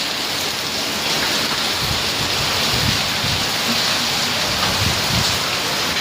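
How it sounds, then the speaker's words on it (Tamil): Heavy rain with wind pours steadily nearby in Mangalore, a dense hiss of drops with low gusty rumbles underneath, no voices. "சரியான காத்து, மழை"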